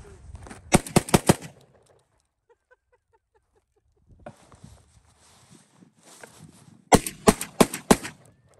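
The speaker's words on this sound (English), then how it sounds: "Put some rounds through her." A homemade whippet gun fires two rapid bursts of about five sharp, loud shots each, near and echoing, separated by a quiet stretch with faint shuffling and low voices.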